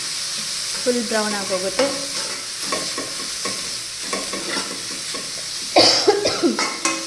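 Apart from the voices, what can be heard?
masala paste frying in oil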